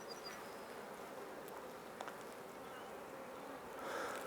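Honey bees hum steadily inside an open Langstroth hive, a soft, continuous buzzing that stays calm throughout, with a slight swell near the end.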